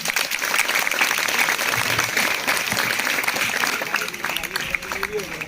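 A school gathering of students and staff clapping for a teacher who stayed on at the school after a transfer, dense, steady applause with crowd murmur underneath.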